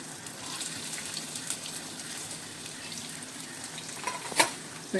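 Large chopped onion pieces sizzling in hot oil with whole spices for veg kolhapuri, a soft steady frying hiss with a couple of faint utensil clicks and one sharper crackle near the end, no voices.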